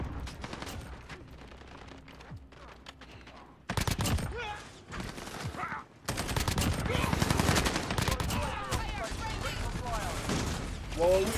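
Rapid bursts of automatic gunfire and overlapping shots in a Call of Duty Modern Warfare hardpoint match, loud and dense after a quieter opening, with game voices and a player talking underneath.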